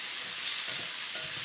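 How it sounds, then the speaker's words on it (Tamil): Onion, shallots, garlic and cumin frying in oil in a pan for a fish curry, giving a steady close hiss of sizzling with faint stirring scrapes throughout a brief stretch. "வெங்காயம், சின்ன வெங்காயம், பூண்டு, சீரகம் 3 சாமான் வறுத்து எடுத்துக்கிறேன் நான்"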